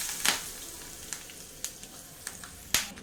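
Curry leaves and dried red chillies hitting hot tempering oil for rasam, crackling in sharp sputtering bursts over a continuous sizzle, close by and with no talking.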